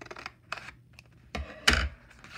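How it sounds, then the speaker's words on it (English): Scissors snip through paper in a few crisp cuts, with short pauses and one louder slicing crunch near the end, close up and quiet. "you can take your scissors"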